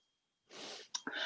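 A single person sneezes once, quiet and close, a breathy burst followed by a short second puff of breath.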